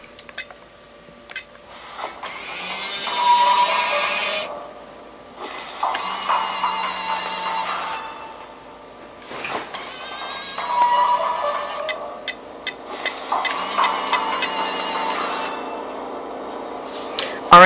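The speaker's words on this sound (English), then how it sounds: "they're a little bit noisy, but you know, with pantographs and that small motor, that's expected." Lionel JLC GG1 model train locomotive with pantographs and a small motor, whirring and clattering mechanically in four separate bursts of a few seconds each, close and fairly loud, with quiet ticks and clicks in the pauses.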